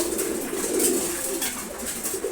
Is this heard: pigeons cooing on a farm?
yes